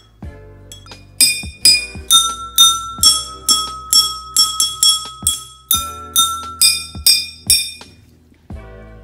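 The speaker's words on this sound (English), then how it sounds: "I had a drumstick and three glasses" Drinking glasses holding water are struck on the outside with a drumstick. Loud, clear, bell-like chimes ring out in a quick, fairly regular series of about fifteen hits, each decaying briefly before the next.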